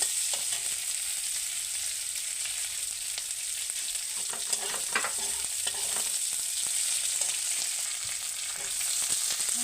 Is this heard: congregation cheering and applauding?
no